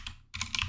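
Quick keystrokes on a computer keyboard, a few soft clicks, a brief pause, then a faster cluster of taps, close and fairly quiet with no voices.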